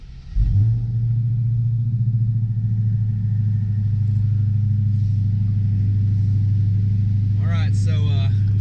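A 2019 Dodge Challenger Hellcat Redeye engine fires up and settles into a loud, steady, deep rumbling idle that holds throughout, with a brief chirp of other sound near the end.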